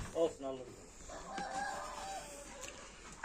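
Chickens and a rooster in a backyard coop give short clucking calls near the start, then a drawn-out crowing rises and fades against faint farmyard background.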